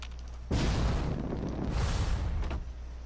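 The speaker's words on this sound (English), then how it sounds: "It was like a massive explosion." A massive explosion in the video game Fallout 4 erupts suddenly as a loud, rumbling roar that lasts about two seconds before dying away, with no talking.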